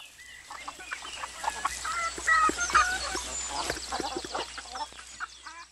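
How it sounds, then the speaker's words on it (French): Hens cluck and geese honk together in a lively farmyard chorus, steady and close, with overlapping cackles throughout. "le caquetage des poules et des oies"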